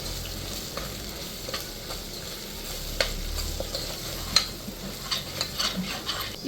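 Gongura pulao ingredients with ginger-garlic paste being stirred in a hot pan, a steady soft sizzle under repeated scraping strokes of a spoon against the metal, close and without talk.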